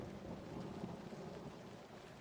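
Steady rain hisses with a low rumble of thunder underneath, an even, unbroken storm ambience from The Da Vinci Code on PS2, with no speech.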